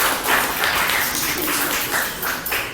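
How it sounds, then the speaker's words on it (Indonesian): Classroom applause for a third student group at a teacher training session, a steady wash of many hands clapping close by, fairly loud and unbroken throughout. "kasih tepuk tangan buat kelompok ketiga"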